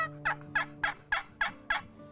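A wooden friction box call imitates a wild turkey with six evenly spaced, sharp yelping notes, close and clear with nothing else around them.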